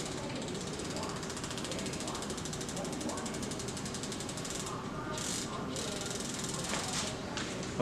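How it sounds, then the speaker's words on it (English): A tubeless road bike wheel spins freely, its hub giving off a rapid, continuous ratcheting click close by, with a few brief pauses and a faint soft whoosh throughout. "I'm going to go ahead and pop the wheel off now, give it a spin."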